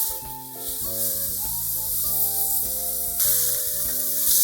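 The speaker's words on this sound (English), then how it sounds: "Add the beef to the pan and stir the surface of the beef." Beef sears in an oiled pan for a roast beef rice bowl, a steady close sizzle and crackle from start to finish with faint stirring, while music plays throughout.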